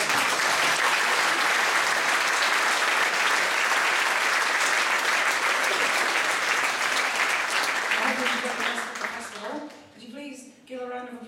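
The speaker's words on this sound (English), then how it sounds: "Could you please have a round of applause for everybody that went on the floor today?" Festival audience at an acoustic roots music event claps loudly and steadily, a dense wash of many hands that fades toward the end as a voice begins speaking over the dying applause.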